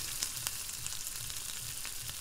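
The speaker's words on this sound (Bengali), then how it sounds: "ভাজা প্রায় হয়ে যাচ্ছে, লাল লাল করে ভেজে নিচ্ছে।" Potatoes, green chillies and tomato fry in hot oil in a steady, close sizzle, with a few sharper pops and crackles scattered through the even hiss.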